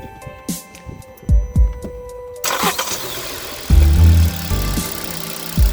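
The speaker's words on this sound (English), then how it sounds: "Then I start the engine again." A Hyundai i20 engine, timing chain replaced a year earlier, cranks in a few short bursts and then catches, settling into a steady low idle hum.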